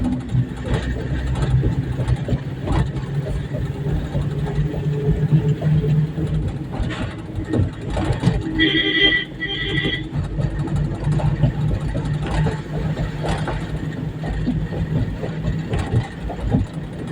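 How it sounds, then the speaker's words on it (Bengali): A motorbike engine labours to pull its load, a continuous mid-pitched drone that stays loud and rough throughout, with faint voices and road noise mixed in. "এই গাড়িটা টানতে পারছে না তো।"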